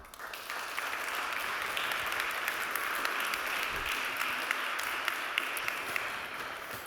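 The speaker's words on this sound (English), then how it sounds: "So, again, a warm applause." A conference audience claps warmly at the end of a talk, a steady dense patter of many hands, fairly distant and even throughout, with no talk over it.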